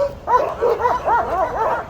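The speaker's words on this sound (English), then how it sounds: "I've heard this going on from the top of the lighthouse, came down, doing it again." Dogs near a lighthouse in Coquimbo, Chile bark, yip and whine in an excited, continuous run of close, fairly loud calls.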